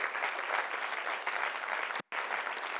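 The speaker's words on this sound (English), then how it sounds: "Now, we give that applause to God" An audience at a spoken storytelling talk breaks into steady, full applause. The clapping holds at an even level throughout, cut by one very short dropout.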